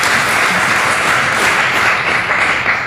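Audience at a panel discussion on Syria breaking into loud, sustained applause, a dense wash of many hands clapping that fills the room without any speech.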